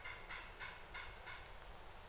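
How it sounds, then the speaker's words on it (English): Wild turkey toms gobble outdoors, with four rapid, rattling gobble bursts in quick succession. They sound faint and distant over a low background rumble. "These toms have their attention on these live hens and are paying no attention whatsoever to the hen call that Peter's doing in the woods behind us."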